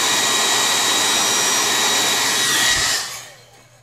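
Heat tool blowing steadily for a few seconds while Jamberry nail wraps are applied, a close, loud, even whoosh with a high whine that cuts off and fades near the end.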